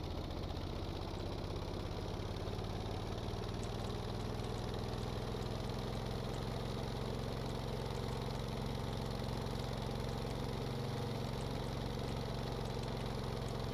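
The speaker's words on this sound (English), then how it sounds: "I need to increase the throttle." An aircraft engine in the Stormworks video game running steadily after the throttle is raised, a loud continuous droning hum with a constant pitch and no talking.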